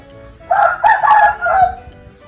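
A rooster crows once nearby, a loud drawn-out call lasting over a second, with quiet background before and after.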